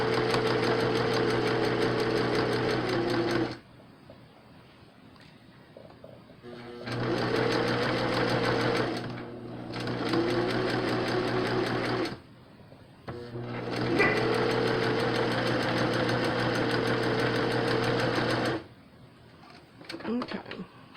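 A sewing machine stitches a quarter-inch seam along the front of a face mask, running in three long, steady, close-up bursts separated by short quiet pauses.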